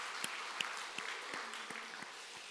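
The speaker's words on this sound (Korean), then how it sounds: "하나님 앞에 영광의 박수 올리겠습니다." A church congregation applauds during a Sunday worship service, a steady wash of clapping with a few sharper claps standing out at a loose, regular pace.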